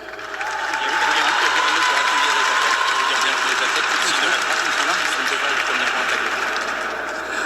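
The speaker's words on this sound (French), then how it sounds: "On les applaudit." A live audience applauds to welcome Isabelle and Father Jason at an evening vigil, a broad, steady wash of clapping that swells in within the first second and holds loud and even for several seconds.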